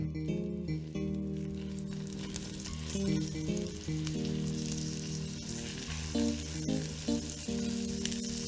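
Guinea fowl suprêmes wrapped in caul fat with herbs sizzle loudly and continuously in foaming butter in a pan, close up, with a steady frying hiss and no talking.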